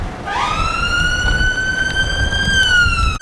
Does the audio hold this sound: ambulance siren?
yes